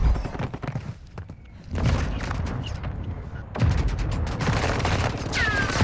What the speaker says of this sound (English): I can hear loads of shooting